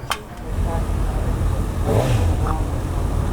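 A Honda CB1000SP naked motorcycle's engine revved close by, a throaty rise and fall of throttle blips over a rumbling idle.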